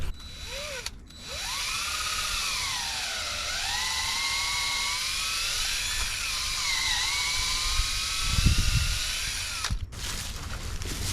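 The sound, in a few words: power drill boring tap hole in maple tree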